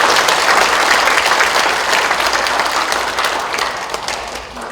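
An audience at a book-launch talk concert breaks into loud, sustained applause after a congratulatory speech, the crowded clapping gradually easing off toward the end.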